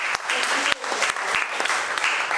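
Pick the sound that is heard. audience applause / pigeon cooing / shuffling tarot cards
audience applause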